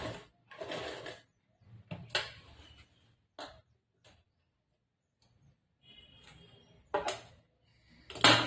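Short bursts of a sewing machine stitching a blouse in a tailoring class, separated by quiet pauses, with a few soft clicks and handling taps between the runs.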